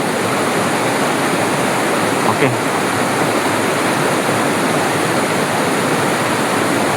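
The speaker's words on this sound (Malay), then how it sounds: "suasana air yang jatuh mengalir" A waterfall pours and rushes in a steady, loud, unbroken roar of falling water, with a brief spoken word heard faintly over it.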